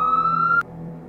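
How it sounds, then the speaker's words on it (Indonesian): A police siren wails at a steady pitch with a clear tonal whine, cutting off abruptly partway through and leaving low background rumble. "Sirene polisi mulai terdengar dari kejauhan."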